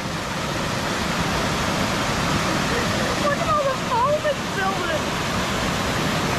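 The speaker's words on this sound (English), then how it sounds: "Hey, this is our waterfall." Heavy rushing water of a waterfall in a creek flooded by heavy rain roars continuously, a broad steady wash of sound, with faint voices or calls briefly audible over it.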